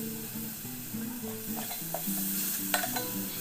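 Washed moong dal stirred into a hot pan with masala spices crackles and sizzles, with scraping spatula strokes and occasional clinks against the pan, close and steady with no talk.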